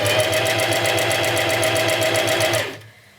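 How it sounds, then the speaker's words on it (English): A sewing machine stitches a skirt hem with folded beige and black fabric, a steady fast rhythmic whir of needle strokes close up that stops abruptly near the end. "I'm just gonna fold the beige part under the black part and sew along."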